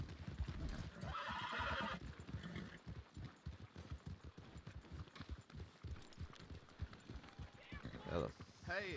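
A horse gallops at full sprint in a video game, its hoofbeats falling in a steady rapid rhythm with an occasional neigh, while voices talk over it.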